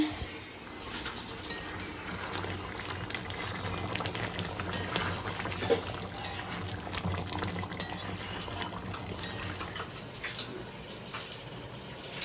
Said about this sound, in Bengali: আর একটু ভালোভাবে ফুটুক আর একটু সেদ্ধ হয়ে যাক